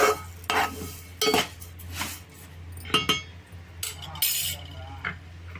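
A spoon scrapes and clinks against a pan while rice is stirred and fried for baby food, with repeated metallic taps at an uneven rhythm over a low steady hum, close and moderately loud.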